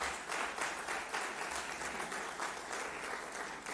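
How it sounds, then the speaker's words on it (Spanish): An audience at a church event launching an apostolic exhortation applauds with steady, dense, moderately distant clapping that continues without pause throughout. "Un aplauso para ellos."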